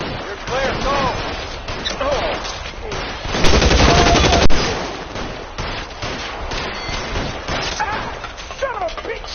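Bursts of gunfire in the 1940s Los Angeles detective game L.A. Noire, heaviest in a loud rapid volley around the middle, while characters shout and talk over the shooting.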